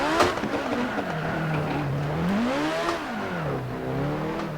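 Race car lapping in a sim racing video game, engine note climbing and dropping through gear changes with brief tire squeal, continuous and upfront.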